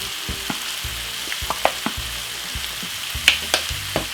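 A vegetable and tuna mixture with a little ketchup sizzles softly in a pan while a spoon stirs it, making light scrapes and taps at a loose, irregular pace close by. No voices are heard.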